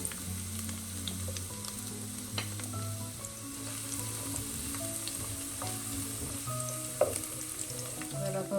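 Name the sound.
small onions frying in hot coconut oil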